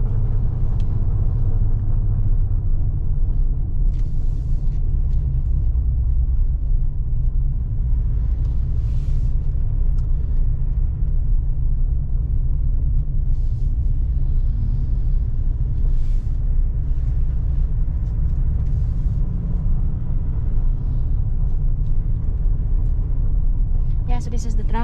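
Road traffic heard from inside a car during a morning drive: a constant low rumble of the engine and road noise fills the cabin, with occasional faint passing sounds and people talking over it.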